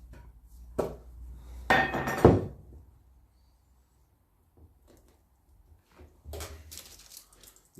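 A metal lid pried off a Land Rover Series 3 rear wheel hub during a wheel bearing change: a few sharp metallic clinks and scrapes close up, then quiet, then more scraping and handling noises.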